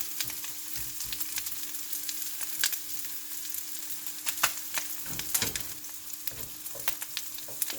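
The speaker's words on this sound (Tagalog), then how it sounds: "Gigisahin natin yan, guys, yung onion na maluto siya." Onions sauté in a hot pan for Filipino pakbet, a steady close sizzle crackling throughout with occasional sharper pops and spatters, no voices.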